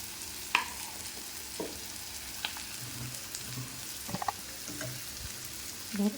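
Kashmiri chilli powder, ground black pepper and turmeric fry in a pan for a homemade ghugni. A quiet, close sizzle runs under scattered scraping and clinking as the spices are stirred, with no voices.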